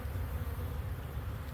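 Honey bees hum in a low, steady drone, a dense continuous buzz from many insects close by.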